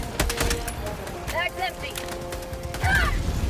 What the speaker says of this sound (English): I didn't realize you were shooting right behind me.